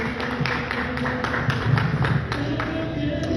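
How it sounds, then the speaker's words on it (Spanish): Audience applause at a book presentation in Morelia greets a speaker, a steady patter of claps with irregular taps close by, continuing for a few seconds with no talk over it. "Un aplauso para el doctor Pedro Urquijo Torres."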